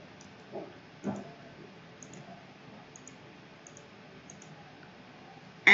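Computer mouse clicks in CLO garment software while sewing panels: a few soft, sparse clicks spaced out over quiet room tone, ending in a sharper louder tap.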